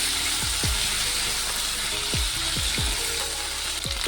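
Small cut potato pieces frying in oil with spices, a steady loud sizzle with no pauses, and a few soft spatula knocks and scrapes against the pan as they are stirred.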